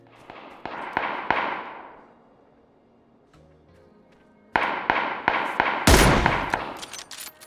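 Sharp gunshots in PUBG ring out in quick separate groups of three or four, each with a decaying echo, then a lull before a louder cluster of rapid shots returns.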